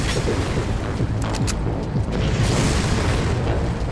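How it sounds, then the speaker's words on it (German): A rocket launcher explosion in the video game Far Cry, a heavy continuous boom and rumble filling the whole stretch, loud and close, with brief sharper bursts partway through. "Und ein Raketenwerfer."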